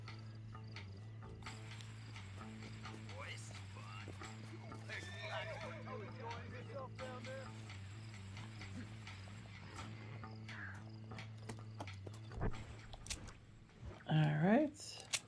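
Horse hooves clip-clopping in Red Dead Redemption amid game ambience, with a horse snorting and whinnying near the end while someone talks.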